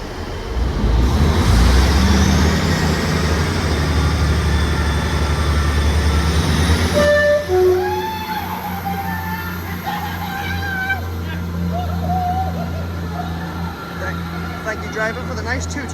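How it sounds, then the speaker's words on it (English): A double Class 158 diesel train departs Warrington Central, its engines rumbling under a continuous wash of station noise. A two-tone horn sounds partway through, and a voice talks at the start. "Train now departing is a double 158 going to Lime Street"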